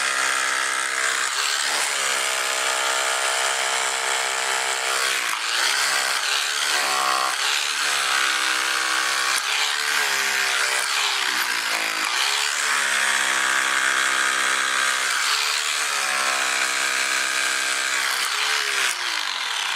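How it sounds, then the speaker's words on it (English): A power drill grinds continuously into concrete during a concrete spur repair, its loud motor whine dipping and rising in pitch as pressure changes, with no voices. "do a bit of drilling"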